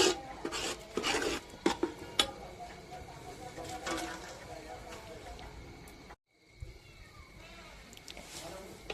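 Masala sautéing in oil in a pan for a village chicken curry, close scraping and stirring strokes with light sizzle, briefly cutting out midway, with a voice talking over parts of it.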